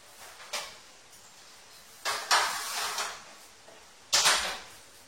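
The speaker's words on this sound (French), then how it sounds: "Et je le mets dans un four en mode grill pour lui garantir une jolie couleur" Kitchen handling while a dish of rfissa with chicken goes into an oven set to grill: three sharp clattering knocks of metal and oven-door sounds, each followed by a short rattle, with quiet gaps between.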